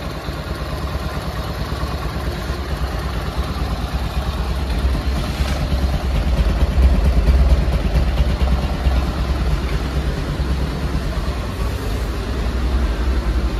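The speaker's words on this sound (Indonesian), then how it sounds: "Ini untuk suara mesinnya." A restored 1963 BMW R27 motorcycle with a sidecar idles steadily, its single-cylinder engine putting out a continuous close, loud chugging clatter with a slight swell in the middle, and no talking.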